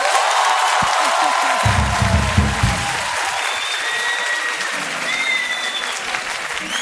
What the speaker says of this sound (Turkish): Birinci arkadaşa alkış alayım.